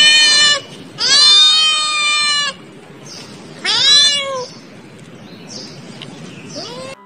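A cat meows loudly several times, with drawn-out cries and pauses between them, ending with softer meows.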